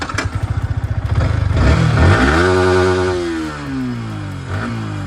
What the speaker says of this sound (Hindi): बाइक को स्टार्ट करते हैं